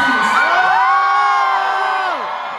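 A concert crowd at a show in New York City cheers and screams loudly, with high sustained whoops from many voices that tail off near the end.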